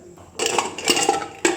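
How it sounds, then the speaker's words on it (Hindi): A metal pressure cooker lid is set and fitted onto the pot while Rajma and potato curry is being cooked, giving a few close clanks and scrapes of metal on metal. "और इसमें कुकर का ढक्कन लगा देंगे"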